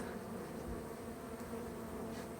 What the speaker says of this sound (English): a lot of the bees went into the air